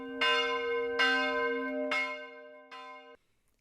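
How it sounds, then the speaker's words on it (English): Church bells peal from a stout wooden bell tower in Norway, four loud ringing strikes about a second apart, each leaving a long humming tone, with no voices. "The bells in the stout wooden tower vigorously peal,"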